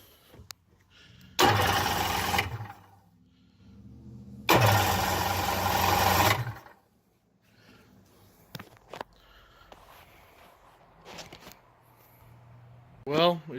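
A Seadoo jet ski engine, recently converted to premix fuel, cranks and fires on starter fluid in two loud bursts of a couple of seconds each, separated by quieter gaps with scattered clicks and handling noises.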